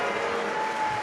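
Audience at a Hindu Shiv Mahapuran katha clapping loudly for Baba, a dense continuous wash of many hands, steady and crowd-wide over the short span.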